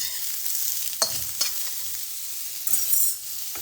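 Food frying in a hot pan before chips are added, a steady close sizzle with a few scraping stirs and brief clatters of a utensil, no voices.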